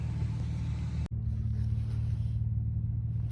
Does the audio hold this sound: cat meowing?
no